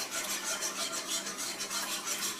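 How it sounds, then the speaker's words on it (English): A wire whisk scrapes and stirs bacon gravy in a pan, a steady rhythmic rasping with regular strokes as it circles continuously, close and fairly loud with no talking. "I'm using my whisk to make sure that the gravy is thoroughly mixed together"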